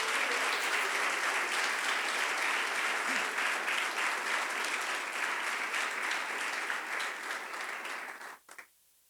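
A church congregation applauds loudly in a sustained, dense burst of clapping that fills the hall for several seconds, then cuts off abruptly with a brief trailing clap.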